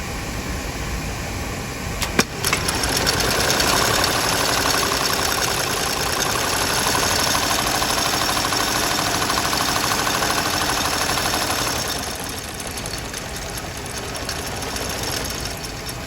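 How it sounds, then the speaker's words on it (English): A Goodyear welt stitching machine sews shoes at the Allen Edmonds factory, giving a steady, loud mechanical hum and rapid chatter that runs throughout, with a brief click near the start and a slight drop in level toward the end. "This is Goodyear stitching."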